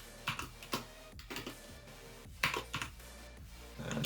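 Someone types on a computer keyboard while writing CSS, producing quiet, irregular clusters of key clicks with short pauses in between.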